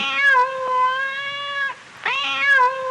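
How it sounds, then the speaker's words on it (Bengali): A black cat gives two drawn-out, loud, tonal meows, close by, the first lasting well over a second and a half, a brief pause, then a second one starting. "খাবার সময় আবার এই কালো বেড়াল কোত্থেকে উদয় হলো?"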